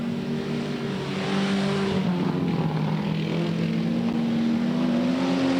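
Super sedan race cars lapping Yandina Speedway dirt oval, a steady loud engine roar with droning, shifting revs as the pack runs by, continuous throughout with no break.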